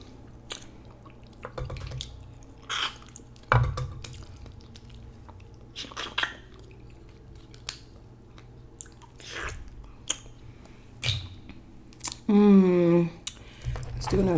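Boiled shrimp from a seafood boil is chewed and bitten close up in wet, squishy bursts with scattered smacks and clicks, and a brief voice near the end.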